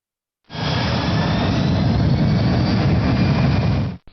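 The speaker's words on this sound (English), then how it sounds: "The EEC now sets maximum reverse thrust." Jet engine on an aircraft spooled to maximum reverse thrust during a thrust reverser demonstration, a sudden loud steady roar that holds for about three and a half seconds and then cuts off abruptly, no voices.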